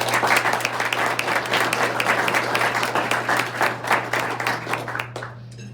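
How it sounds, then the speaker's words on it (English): An audience applauds the service staff at the Embassy Club during an Iowa restaurant association meeting, a steady wash of many hands clapping over a low hum before tapering off near the end. "if you would join me in applauding our service people that serve us here at the Embassy Club"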